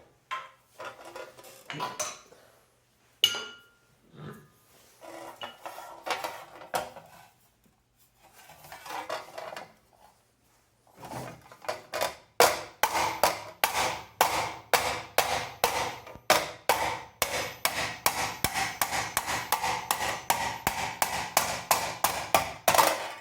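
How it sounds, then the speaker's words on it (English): Metallic clanging and tapping on annealed sheet metal, first in sparse bursts with pauses, then a fast steady series of sharp hammer blows ringing on metal. "we'll hammer on it just a little bit more."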